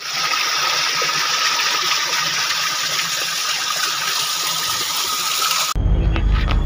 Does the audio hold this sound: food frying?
no